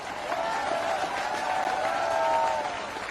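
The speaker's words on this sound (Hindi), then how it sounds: "अरे ऐसे ताली हो जाओ।" A crowd at an election rally applauds. The clapping is dense and steady throughout, with crowd noise and faint voices mixed in.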